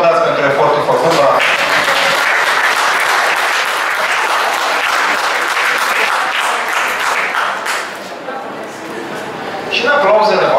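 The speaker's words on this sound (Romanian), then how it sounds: "Haideți să vă aplaudați pentru efortul făcut." A room full of audience members at a Romanian speaking event applaud loudly and continuously for about eight seconds, the clapping thinning briefly before swelling again, with a voice speaking near the end.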